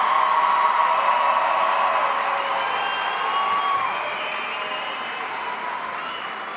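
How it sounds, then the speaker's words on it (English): A graduation audience honouring the class of 2018 at a Kalamazoo Public Schools ceremony applauds and cheers loudly, with dense steady clapping and scattered whoops throughout, tapering slightly toward the end. "Let's give another round of applause to all of our class of 2018 graduates."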